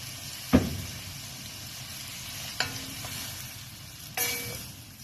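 Squid adobo cooking in a pan with soy sauce added, a steady low sizzle with a few sharp clacks of a utensil against the pan.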